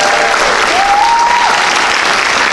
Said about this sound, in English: how about one more round of applause for the Brunswick Bellas who did our national anthem?